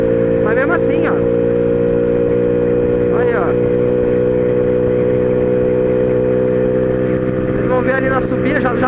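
A Honda Pop 110i motorcycle engine drones steadily while riding downhill with a passenger, a loud, even hum close to the rider with no revving, as someone talks over it briefly.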